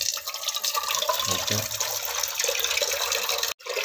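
Water pouring into a glass of tea, a steady splashing fill that runs almost continuously and cuts off abruptly near the end, with a brief spoken word over it.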